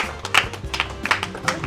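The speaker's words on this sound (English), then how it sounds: "Children, a round of applause for her" Children in a classroom applaud a girl after a lesson about love, giving a short run of sparse, uneven claps that come close by in small bursts.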